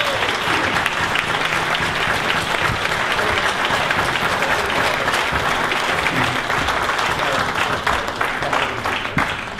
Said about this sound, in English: please give a big round of applause to their operations director